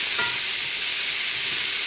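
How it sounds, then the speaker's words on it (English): Onions and celery being stirred in rendered bacon fat in a pan for clam chowder, a steady loud sizzle and hiss with faint scraping of the spoon throughout, no talking. "And then we'll give this a quick stir."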